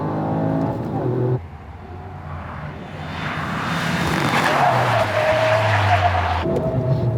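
A hydrogen-engine Toyota Corolla brakes hard on the bumpy surface of the Tsukuba circuit. A loud engine tone drops away as the car slows, then a rising, whining drone swells before cutting off near the end.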